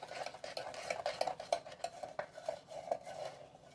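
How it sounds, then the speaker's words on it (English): A spoon scrapes and clinks against a bowl while cinnamon is stirred into a pfeffernusse German spice cookie mixture, with a steady run of quiet, close, irregular scraping strokes and no talking. "Now, I'll stir that in. We'll stir that in good into our"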